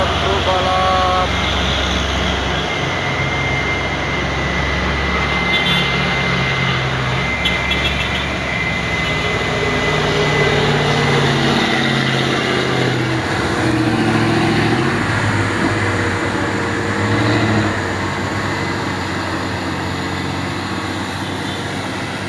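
Loaded trailer trucks grind uphill on a road, their engines droning low and steady at close range while someone talks over the rumble and other traffic passes.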